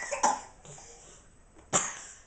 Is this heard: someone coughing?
yes